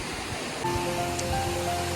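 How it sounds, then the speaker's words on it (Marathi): Steady broadband roar of the Manche waterfall in Devgad, Konkan, a continuous close rush of falling water with no speech over it. "आता आम्ही इलेले आहो वरती धबधब्यावर"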